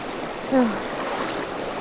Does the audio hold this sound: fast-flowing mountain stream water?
yes